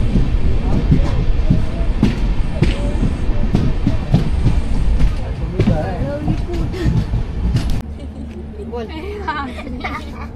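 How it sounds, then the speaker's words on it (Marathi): A passenger train on the Dadar to Kudal route runs steadily on the tracks in rainy weather with loud continuous rumble and rhythmic rail clatter, people talking in the carriage throughout, and the sound dropping in level near the end. "पुण्यातनं ट्रेन येताना दिसतं आपणाक"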